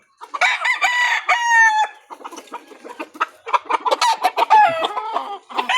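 A Sweater gamefowl rooster crows loudly and close, giving several strained, wavering calls mixed with clucking, with a short pause between the bursts.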